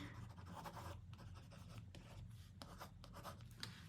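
A stylus scratches across a reMarkable tablet's paper-like screen while signing a document, quiet close strokes in quick irregular bursts with no talk.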